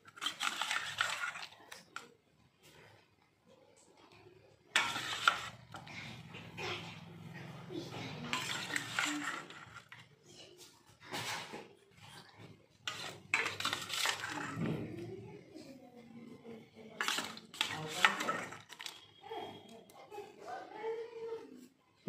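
Fish curry in tomato-onion mustard oil gravy (tel jhal) transferred into a serving pot, with intermittent clanks and scrapes of metal utensils against pots, interleaved with someone talking in a quiet home kitchen.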